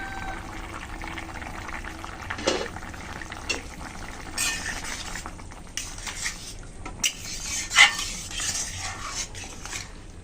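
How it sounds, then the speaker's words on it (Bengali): A lid comes off a pot of simmering potato curry with a few light metallic clinks and scrapes over a soft bubbling sizzle, close by and fairly quiet. "ঢাকনা তুলে নিচ্ছি।"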